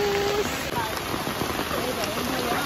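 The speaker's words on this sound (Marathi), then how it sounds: "जोरदार गाईज पाऊस सूट झालाय" Heavy rain pours down steadily outdoors during a Ganpati festival photo shoot, a dense, continuous hiss of drops close by, with faint voices mixed into the downpour.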